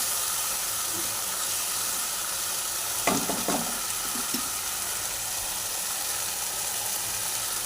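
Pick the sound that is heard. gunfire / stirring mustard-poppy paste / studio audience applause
stirring mustard-poppy paste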